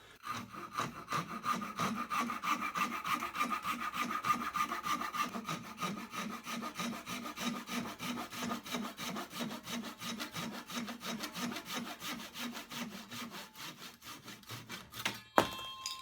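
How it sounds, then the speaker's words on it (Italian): A small Parkside Japanese kataba handsaw cuts steadily through wood in quick, even rasping strokes, close and continuous, ending with a sharp knock. "a tagliare perfettamente il legno con una velocità comunque molto apprezzabile"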